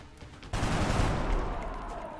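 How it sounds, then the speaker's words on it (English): Machine pistol in XCOM: Long War opens with an abrupt loud burst of rapid automatic fire that blurs into a dense rattling roar and then trails off slowly. "Show me what that machine pistol could do."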